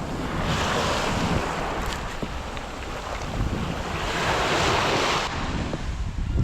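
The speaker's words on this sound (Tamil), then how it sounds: "கடல் அலை கூட ரொம்ப பெருசாக இல்லை, கம்மியாக தான் இருக்குது." Gentle, small sea waves wash steadily at Jebudo Island, a continuous close hiss of surf mixed with wind buffeting the microphone, with no voices.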